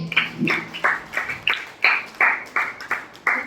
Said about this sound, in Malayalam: ആൽബിക്ക് എല്ലാവരും ക്ലാപ്പ് കൊടുത്തേ.